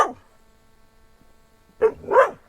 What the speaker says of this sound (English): Are you a country dog?